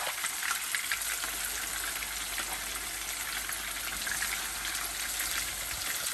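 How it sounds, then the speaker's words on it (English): Chicken scallops frying in a pan, a steady broad hiss of sizzling oil with faint crackles, continuous and moderately quiet, with no talk. "just slowly putting them in, remembering which ones you put in first, so you can rotate them as you see them start to cook"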